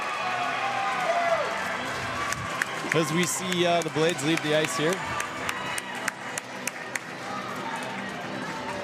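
Crowd noise at a home hockey playoff game between the Blades and North Stars, a steady arena murmur with scattered claps and cheers running under a commentator's talk.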